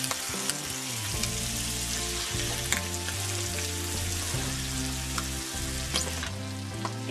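Pig blood and onions cooking in a covered pan, giving a steady, close sizzle and frying crackle with small pops, continuing evenly throughout with no talking.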